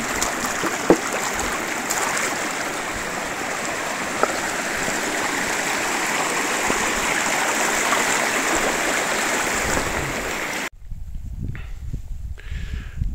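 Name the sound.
river flowing at a crossing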